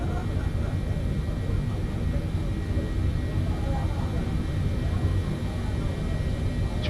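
A jumbo jet in Microsoft Flight Simulator rolls down the runway, a steady, even engine roar with broad rumbling noise holding constant throughout, while voices talk over it.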